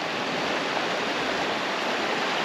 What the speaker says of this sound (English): that river is just way too up.